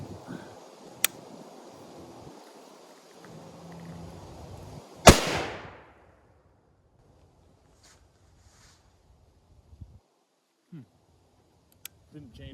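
A single loud shot from a Woodman Arms Patriot muzzleloader being sighted in outdoors: one sharp blast with a long decaying boom and rumble, preceded by faint ambient noise and followed by near silence with a few small clicks.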